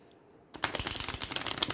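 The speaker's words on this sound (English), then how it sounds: "So I'll see if I can shuffle them this way." A deck of spirit animal message cards, thick like a tarot deck, is shuffled after a brief quiet moment, giving a close, crisp run of rapid flicking card riffles.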